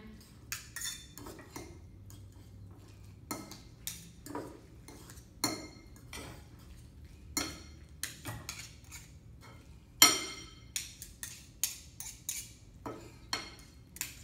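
A utensil stirring guacamole in a bowl, making steady scraping strokes broken by sharp clinks against the bowl, close and fairly quiet, with one louder knock partway through and no talking.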